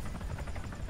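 A helicopter's rotor drone in Arma 3 throbs steadily and loud throughout, a low continuous chopping rumble with no pauses.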